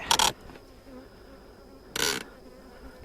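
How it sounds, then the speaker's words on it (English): A bee buzzes close by a beekeeper at a hive in two brief loud passes, one at the start and one a couple of seconds later, with quiet between and no talking. "Alright, you stupid bee."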